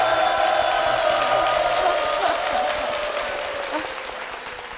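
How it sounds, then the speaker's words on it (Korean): A church congregation applauds for the church and its senior pastor, a steady wash of clapping that slowly fades, with faint voices underneath. "교회와 담임 목사님을 위해서 다시 한번 큰 박수"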